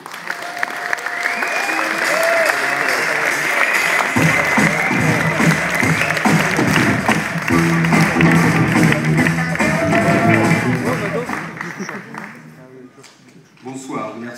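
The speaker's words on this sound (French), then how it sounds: "merci pour les applaudissements" Sustained loud applause from a festival audience at the Gérardmer film festival tribute evening, dense and continuous with voices and cheering mixed in, tapering off near the end.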